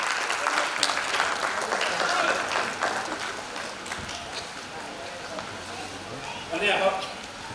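Audience at a family sacred-thread ceremony cultural programme claps in a sustained, dense burst of applause that holds steady for several seconds, then swells briefly near the end.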